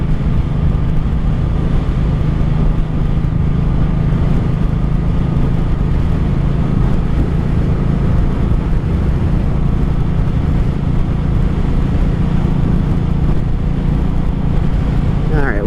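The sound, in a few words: 1984 Honda Shadow 700 motorcycle engine cruising in third gear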